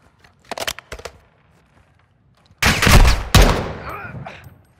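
Gunfire in Call of Duty Modern Warfare 2 during campaign play, with a short quiet burst of shots, then two loud, close, booming shots that ring and fade out.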